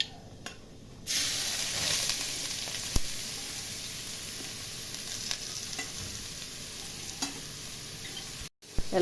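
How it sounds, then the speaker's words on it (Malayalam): Broccoli thoran being stirred in a hot pan, a steady sizzling fry with scraping stir strokes running throughout, loud and close with no talk. "ഇളക്കി കൊടുക്കാം."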